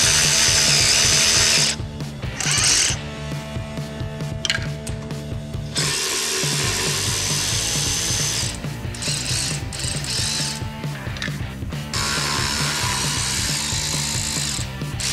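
A power ratchet spins off lock nuts on a sugar beet topper, loud, close, whirring bursts with brief pauses between nuts and metallic clicking, no talk.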